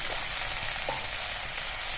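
Mutton kosha masala sizzles and fries in oil while being stirred, a constant loud hissing crackle with a few soft scraping touches of the spoon.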